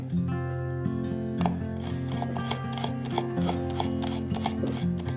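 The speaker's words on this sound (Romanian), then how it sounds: "Acum vom lua cei 7 căței de usturoi și va trebui să le tăiem mărunt, mărunt" Seven garlic cloves being chopped finely for a vegan lentil salami, a rapid series of knife taps on a board over a faint background hum, no speech.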